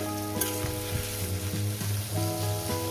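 A steady, loud sizzle of small fish and potatoes frying in hot oil, continuous throughout with a faint tonal hum running underneath.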